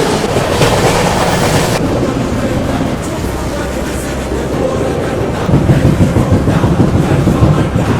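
The MGR Chennai–Howrah Mail, one of the old trains of Southern Railway, rolls along with a steady, loud rumble and rattle of coaches, gusts of wind noise and faint rhythmic wheel clatter throughout.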